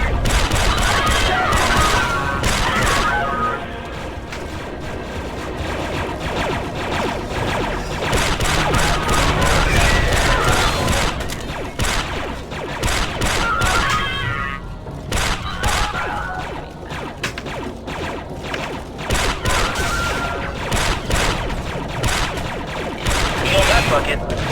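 Rapid turret gunfire in the Star Wars Republic Commando shooter, a sustained loud barrage of repeated blasts and thuds running for most of the stretch, with battle noise and squad voices talking over it.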